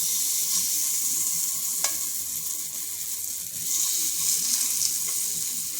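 Batter spooned little by little onto a hot pan with little oil, giving a steady, close sizzle and hiss with a few faint clicks of the spoon.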